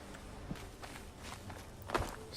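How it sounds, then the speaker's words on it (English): Soft footsteps sound in the Fallout 76 video game, a few faint, scattered steps at moderate distance over a quiet background. "Still hearing footsteps."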